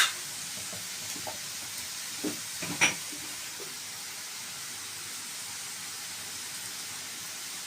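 Food fries in a pan with a soft, steady sizzle and hiss, broken by a few brief clinks and stirring knocks early on, then settling into a quiet, even frying sound.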